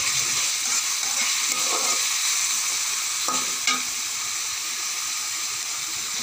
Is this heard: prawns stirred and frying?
yes